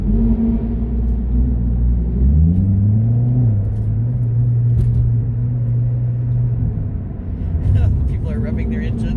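Car engines rumble and rev in an enclosed, echoing space, a low droning roar rising in pitch partway through, with faint voices and clatter later.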